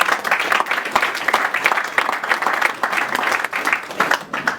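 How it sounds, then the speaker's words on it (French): Sustained applause from a large crowd at an official installation ceremony for a new party bureau, a dense, loud, continuous patter of many hands clapping throughout with no words spoken over it. "pour qui je demande aussi d'applaudir"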